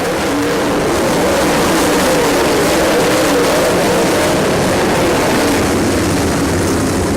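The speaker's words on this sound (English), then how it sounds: "The 96 of Brian Connaughton appeared to blow his engine going down the front straightaway" Race car blows its engine on the front straightaway during a short-track race, a loud sustained roar of engine and track noise that fills the whole stretch without letup.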